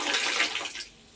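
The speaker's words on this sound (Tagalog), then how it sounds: "Buhusan muna natin ito ng tubig." Boiled water pours into a toilet bowl with a close, splashing rush that holds steady, then tapers off quickly to near quiet in about a second.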